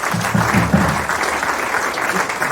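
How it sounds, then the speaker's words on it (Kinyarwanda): A church congregation applauding during a sermon: sustained, dense clapping from a crowd, with a voice faintly audible under it early on. "Komera Imana amashyi mu izina rya Yesu"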